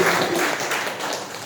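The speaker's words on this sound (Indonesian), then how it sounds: "Beri tepuk tangan." An audience at a school guidance and counseling session gives a round of applause, a dense, sustained clatter of many hands that fades slightly toward the end with no speech over it.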